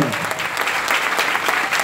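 Congregation applauding during a Catholic homily, dense steady clapping from many hands at full strength, filling the whole moment without a break.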